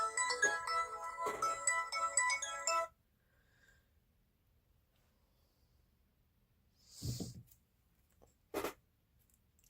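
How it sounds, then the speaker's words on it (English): A mobile phone ringtone plays a bright melodic loop for about three seconds and then cuts off, leaving near silence broken by a couple of faint bumps in a craft workshop. "I forgot to put my phone on mute."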